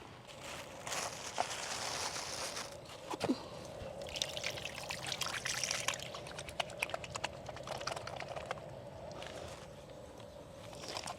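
Water poured and trickling over hands to wash off charcoal, a soft continuous splash with scattered sharp taps and clicks, moderately quiet, no speech.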